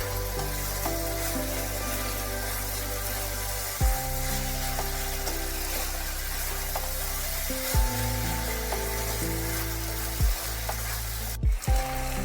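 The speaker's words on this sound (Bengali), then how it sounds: "মৌরলা মাছ দিয়ে ভালোভাবে একটু নাড়াচাড়া করে নিতে হবে।" Mourola fish with flat beans fry in a pan, a steady close sizzle running throughout with a few soft bumps of stirring.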